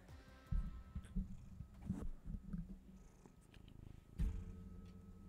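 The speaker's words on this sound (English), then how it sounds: "Oh, I can hear his purrs." A cat purrs close to the microphone, a soft low rumble running through most of the five seconds, broken by a few louder bumps and rustles.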